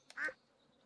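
A single short duck quack from Stardew Valley, clear and fairly close against near silence.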